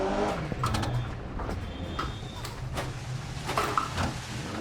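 A front-wheel-drive rally car in Dirt Rally 2.0 slides over a snowy stage, its engine droning and revving unevenly under scattered crunching and scraping surface noise.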